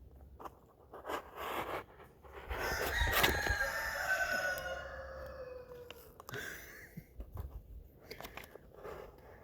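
A rooster crows in a long drawn-out call at middle distance, rising then trailing off, with faint scrapes and small knocks of work on a roofing job around it.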